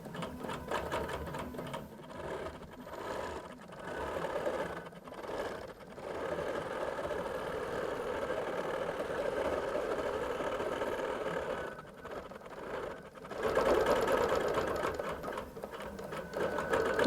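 A QBOT V3 quilting robot stitches an appliqué boundary, a steady mechanical whir running almost nonstop with a few short pauses and a louder stretch near the end, no talking.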